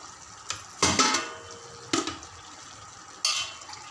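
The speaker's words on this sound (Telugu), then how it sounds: "కాసిన వాటర్ పోసుకోవాలి" Boiled water poured from a vessel into country chicken curry in a pot, a few short splashing bursts with pot clatter and quiet gaps between, close and moderately loud, no talking.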